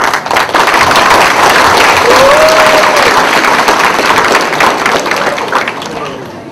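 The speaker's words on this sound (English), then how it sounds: "Can everyone please give a round of applause to all of the participants?" An audience at an international debating competition in Phnom Penh applauds the participants with sustained, dense clapping from a large crowd, loud throughout and tapering slightly toward the end.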